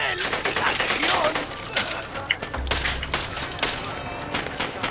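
Rapid gunfire bursts from the video game Borderlands: The Pre-Sequel, dense repeated shots running throughout with a low thump near the middle, under energetic speech.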